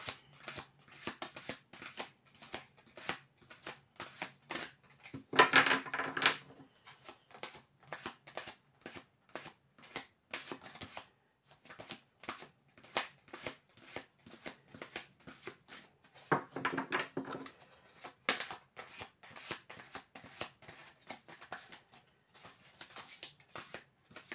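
Oracle cards being shuffled by hand, a fast run of crisp papery riffles and flicks repeating throughout, with two longer riffle bursts standing out, close and fairly quiet with no talk.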